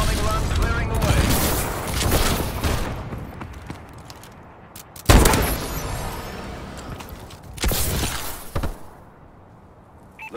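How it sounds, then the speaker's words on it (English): Friendly bombing run with gunfire in Call of Duty Advanced Warfare: rolling bursts of fire, a sharp loud blast midway and later booming impacts, with voices talking through the chaos. "Friendly bombing run clearing the way."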